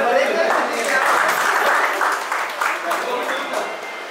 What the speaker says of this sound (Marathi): उपस्थित आणि टाळ्या वाजवा